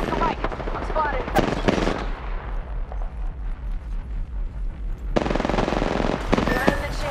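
Rapid automatic gunfire in the Apex Legends shooter game, a fast rhythmic chatter of shots that pauses briefly and then resumes in loud bursts, with a voice speaking over it.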